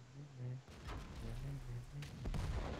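A tank cannon firing in World of Tanks, heard as a few dull booms mixed in with low engine rumble while people talk over the top in Czech and Polish.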